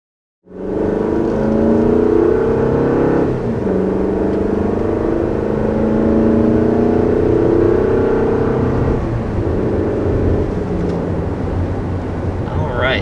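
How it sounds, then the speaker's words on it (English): A 2020 Toyota RAV4 with a 2.5-liter naturally aspirated four-cylinder accelerates on the road, its engine note rising steadily and loud from inside the cabin, with a brief shift dip before the drone continues. "So that was our initial acceleration in the 2020 RAV4."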